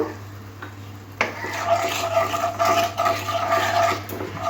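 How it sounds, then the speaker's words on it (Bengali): Spice paste with Kashmiri chilli powder, salt, sugar and a splash of water being fried and stirred in a pan for bata fish curry, with a soft sizzle and occasional utensil scrapes under a low steady hum. "মশলা ধোয়ার জল দিয়ে মশলাটাকে আরও ভালো করে একটু কষে নেব"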